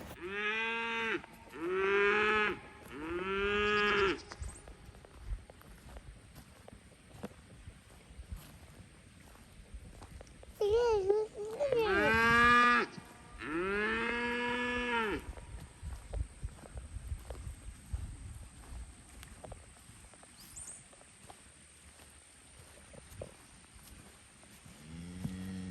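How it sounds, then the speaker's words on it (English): A dairy cow moos repeatedly at a new steer on a farm, several loud drawn-out calls in two bursts with pauses of quieter outdoor ambience between them. "She's mooing at it."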